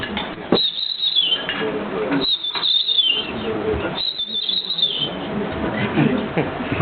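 A man vocally imitates a dunnock (hedge sparrow), whistling quick, warbling high-pitched phrases in three bursts in front of an audience, close and clear with room noise between phrases.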